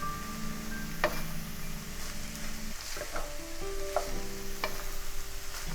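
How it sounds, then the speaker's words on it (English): Rice being stir fried in a pan for Chinese egg fried rice, a steady close sizzle under scraping stirs and occasional sharp clicks of the spatula against the pan, with no talking. "stir fry for another 2 to 4 minutes"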